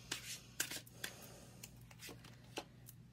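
Tarot cards are shuffled and drawn by hand, making quiet, close riffling and soft flicking snaps in irregular short bursts over low background hum.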